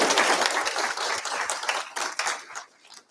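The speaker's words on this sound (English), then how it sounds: "Thank you, and round of applause" A conference audience at a tech conference in London applauding after a talk: dense, close clapping from a crowd that thins out and fades over a few seconds.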